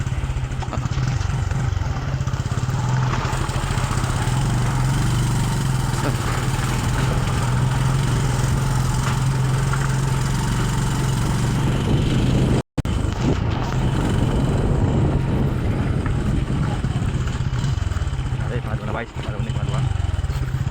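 A motorcycle engine runs steadily and loudly up close while riding through a shallow river on a rough mountain trail, a continuous low rumble with a brief cutout midway.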